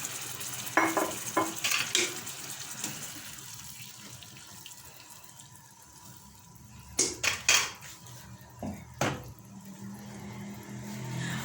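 Water poured into a pot over pieces of veal for beef qorma, a steady rushing splash with a few metal clinks near the start and a cluster of knocks and clatters toward the end, no one talking.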